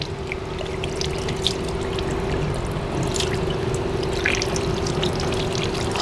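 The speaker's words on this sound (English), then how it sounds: "it seems it just drains to the other jug without any problem" Ozonated water pours steadily from an automatic spout into a jug at an outdoor hand-washing station, a continuous close trickling splash under a faint hum of bubbling equipment.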